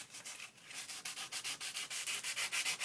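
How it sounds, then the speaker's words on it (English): Sandpaper rubs back and forth across shiny card stock in quick, even strokes, a close, rhythmic scratchy rasp that speeds up slightly as it goes, with no voices. "Just going to use some sandpaper."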